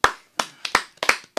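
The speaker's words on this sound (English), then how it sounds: "I want to give another round of applause." A short round of applause from a few people on a sports talk show, a handful of sharp, close claps spaced irregularly over about a second and a half.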